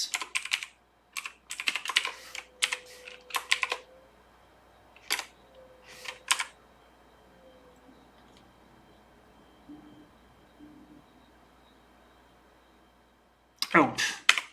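Bursts of close, clicky computer keyboard typing start and stop in clusters, separated by quiet pauses, then resume briefly at the end.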